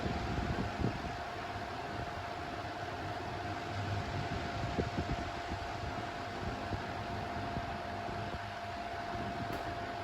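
GEC bullet desk fan running on its low setting, a steady whirring hum with a faint tonal whine, continuous and moderately quiet, with no voices.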